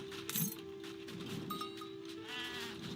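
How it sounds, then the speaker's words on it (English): Sheep in the Age of Empires III video game bleat briefly amid faint ambient game sounds and a low steady hum, soft and somewhat distant, with no speech. "we also have all these sheep"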